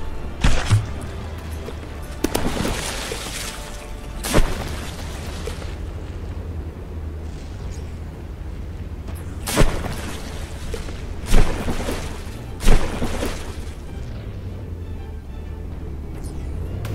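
Repeated explosions in a From The Depths battleship tournament battle, heavy booms striking in irregular bursts over a steady low rumble of engines and water, several loud blasts clustered near the end.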